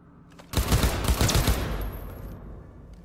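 Enemy gunfire in Cyberpunk 2077 comes as a loud burst of rapid automatic shots lasting about a second, then trails off into a fading echo, with no talk.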